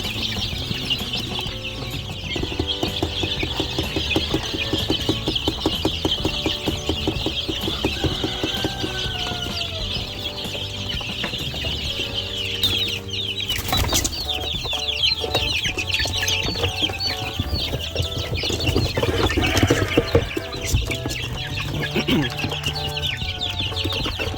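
A farm flock of chickens and young chicks clucks and peeps continuously at close range, a busy overlapping chorus that stays steady throughout, with no one speaking.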